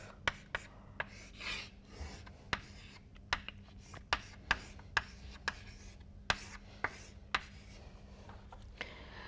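Chalk or marker tapping and scratching across a board during a lecture on compressible flow, a run of sharp, irregular clicks and short rubs, fairly close, with no talking.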